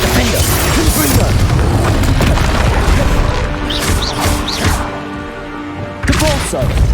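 A Confringo spell explosion in the Hogwarts Legacy video game, loud booming blasts with crashing impacts in quick succession amid combat clatter, while a voice calls out spell names over the action.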